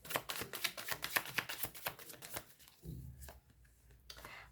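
Tarot cards being handled and shuffled, a rapid run of crisp riffling flutters close up for a couple of seconds, then a few softer shuffles and taps as the deck is settled, with no voice.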